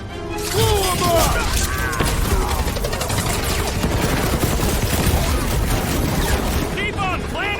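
Explosions and gunfire in the Guardians of the Galaxy video game form a dense, continuous barrage of blasts and rapid shots, loud and close, while voices shout over the combat.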